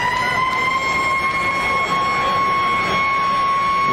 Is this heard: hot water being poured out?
no